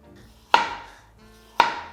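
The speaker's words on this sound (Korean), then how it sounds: "생강은 좀 잘게 슬라이스 해주시면 되고 레몬은 껍질채로 슬라이스 하겠습니다." A knife slices through lemon with its peel on and ginger on a cutting board in a kitchen, giving two sharp, close thuds about a second apart with quiet between them.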